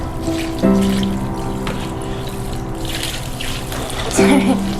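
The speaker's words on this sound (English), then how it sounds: "So we've got 10 cups of warm water here." Ten cups of warm water poured onto seed starter pellets, a continuous splashing trickle running for several seconds, with a low hum in the background.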